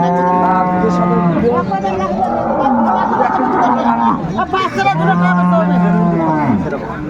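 Dairy cows at a cattle market in Dinajpur low in long, loud, close moos, two drawn-out calls with harmonics over a busy crowd background where people talk.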